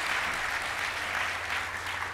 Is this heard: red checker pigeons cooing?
no